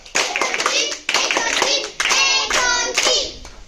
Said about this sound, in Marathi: आता आपण टाळ्या 3च्या टप्प्यातली टाळी बघणार आहे की नाही.